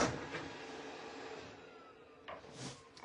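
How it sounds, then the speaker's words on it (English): A robot vacuum cleaner runs in a room as a steady, fairly quiet whirring hum, with a few brief bumps and swells near the end. "robot vacuum cleaner decided she wanted to come in here and clean here while I'm doing my makeup"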